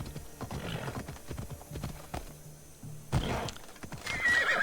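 Horse in a video game whinnies and snorts over steady clip-clopping hooves, with a few louder hoof strikes near the end; close and fairly loud, no talk.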